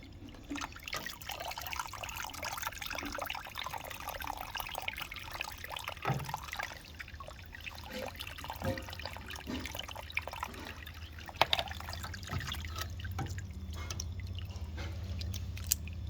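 Water from a draining Hisense washing machine trickles and drips steadily, with gurgles and small splashes close by, plus occasional soft clunks.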